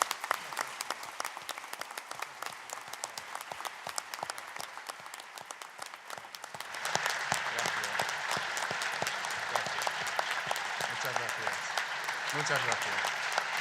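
An audience at a Bloomsday 2019 tribute event for a guest of honour gives him a sustained ovation. Dense clapping swells louder partway through, and a voice briefly says thanks near the end.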